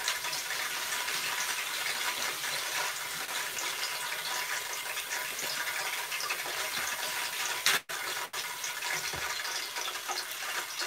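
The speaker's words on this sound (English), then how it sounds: "You scrub the rice and you keep pouring the water off of it until it runs clear." Water poured and running over rice being washed, a steady rushing flow that stops briefly near the end and then resumes.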